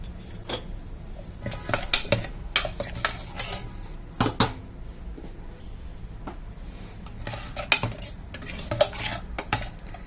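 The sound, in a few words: roasting spice masala in a pan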